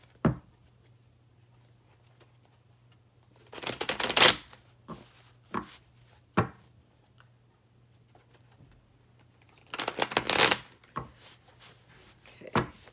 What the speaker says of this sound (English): so I'm gonna start shuffling